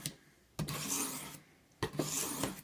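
A knife edge drawn across a tri-stone in two long, gritty rasping strokes separated by short pauses, close and fairly quiet.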